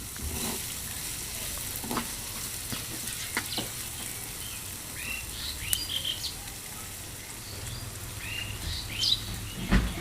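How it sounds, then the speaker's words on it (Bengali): Chopped onions fry in hot oil in a pan, with a continuous close sizzle and occasional sharp pops and crackles throughout, no talking. "গরম তেলে পেঁয়াজ কুচি দিয়ে দিচ্ছি।"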